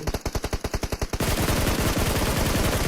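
Sustained automatic gunfire in PUBG Mobile, loud and close: a rapid, evenly spaced burst of shots that then thickens into a dense, continuous roar of overlapping fire with no talk.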